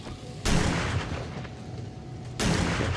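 Sustained gunfire pours into a giant brown bear in the survival game 7 Days To Die, two loud dense bursts of rapid shots at the start and end with a steadier rattle between.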